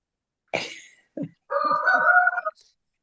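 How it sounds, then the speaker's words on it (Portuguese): A farmyard chicken clucking close by: a sharp squawk, a short low cluck, then a longer drawn-out tonal cackle, all alone against silence. "A galinha aqui está carcarejando."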